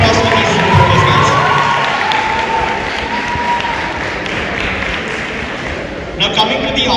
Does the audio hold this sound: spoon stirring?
no